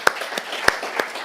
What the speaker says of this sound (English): Let's clap again for